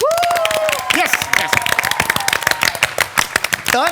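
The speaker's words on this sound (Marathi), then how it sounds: "आता जोरदार सगळ्यांसाठी टाळ्या वाजवा" A studio audience at the Marathi comedy show Maharashtrachi Hasya Jatra bursts into loud, dense applause, with continuous rapid clapping and cheering whistles rising over it throughout.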